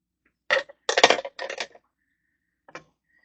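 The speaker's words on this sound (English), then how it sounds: "Scissors." Scissors snip through double-sided tape in a few short, crisp cuts, close and isolated against silence, with one smaller snip after a pause.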